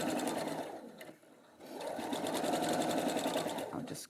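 Sewing machine running a normal seam, a close, continuous fast stitching whir that briefly slows and quiets near the one-second mark before resuming at full speed until the end.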